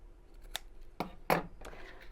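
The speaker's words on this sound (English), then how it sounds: "chop the ends off" Scissors snip through the ends of ribbon on a fabric Christmas cone, giving about three short, sharp cuts spaced roughly half a second apart, close and crisp in a quiet room.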